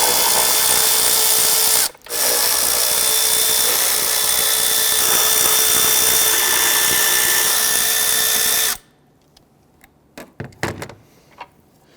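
An impact or power tool runs steadily, loud and close, for about seven seconds with one brief pause, loosening the ignition coil bolts of a 2011–2023 Dodge Charger 3.6L V6 with an 8mm socket and extension, then scattered light clanks of tools.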